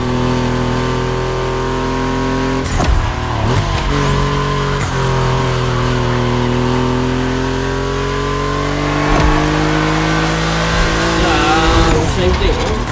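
Volkswagen cars racing on a track, their engines droning loudly and steadily with pitch shifts as they accelerate and shift gears, with brief tire squeals, while people talk over the noise.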